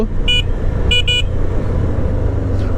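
Car horns honk in a road traffic jam, one short toot followed by a quick double blast, over a steady rumble of engines and traffic noise.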